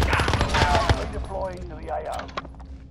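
Bursts of gunfire in Call of Duty Warzone crackle close and loud under excited voices, with sharp shots scattered through the short stretch.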